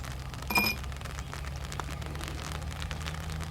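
Rain falls on a golf course, a steady soft hiss that carries on throughout, with one short tonal blip near the start and a faint low rumble underneath.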